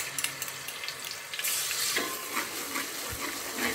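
Fresh ginger garlic paste hitting hot cooking oil in a pan for chicken fried rice, a sudden loud hissing sizzle that swells midway and continues steadily with faint stirring scrapes.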